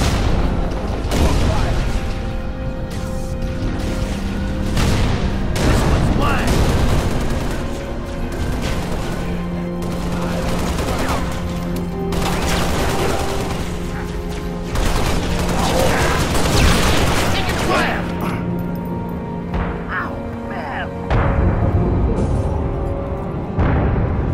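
Gunfire in the video game Halo Reach, repeated booming shots and bursts with crashes over a continuous battle din, and no plain talk standing out.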